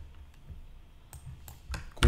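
Keys on a computer keyboard are pressed for a paste and Enter, giving a few sharp clicks, the last one loudest, over a quiet room hum.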